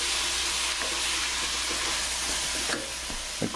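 Vegetables and collard greens frying over a high flame give a steady, close hissing sizzle that runs throughout, with small stirring clatters near the end and no talk.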